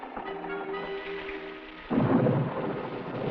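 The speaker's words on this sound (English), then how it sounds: "Well, there's a storm a-coming." A thunderstorm with heavy rain in a western TV drama brings a steady downpour, then a loud roll of thunder breaks in midway and rumbles on under the rain.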